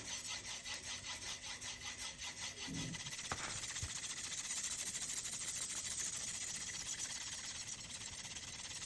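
Knife blade stroked along the stone of a guided sharpening system, a continuous rhythmic scraping and rubbing with a brief knock partway through, close and moderately loud.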